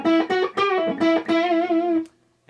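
Electric guitar on a Zexcoil humbucker neck pickup, a Rhinehart S-style, playing a short run of bright, distorted sustained notes with a chorus-like shimmer, close and loud, ending in a brief fade and a click.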